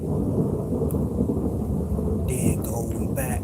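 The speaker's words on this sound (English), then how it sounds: "It's thunder, lightning, all that good stuff." Thunder rumbles low and continuously through a thunderstorm with lightning, heavy and close, while someone speaks briefly over the noise near the end.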